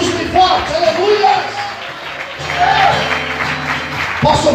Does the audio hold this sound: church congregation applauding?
yes